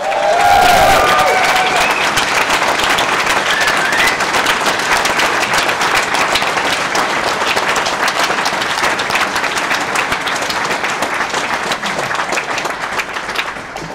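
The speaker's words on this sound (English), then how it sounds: "hope everybody could just give him a rousing applause" A large audience at a startup weekend judging and awards event in Perth gives sustained, loud applause, a dense wash of clapping that starts strong and continues steadily to the end, with scattered cheers mixed in.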